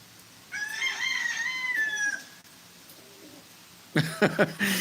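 A pet bird calls in a faint, wavering crow-like cry lasting over a second, followed after a pause by a few sharp, louder squawks.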